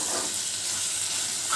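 Chicken frying in a pan without water while being stirred, a soft steady hiss and sizzle, close and even, with slight swells of scraping.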